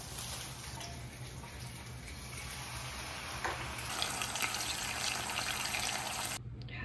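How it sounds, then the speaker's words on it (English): Food sizzling in a pan as water is added, then covered with a lid: a steady hissing, crackling sizzle that grows louder and denser midway, continuous and close, ending abruptly. "I'm gonna let them sizzle for just a minute and add the water and put the lid on"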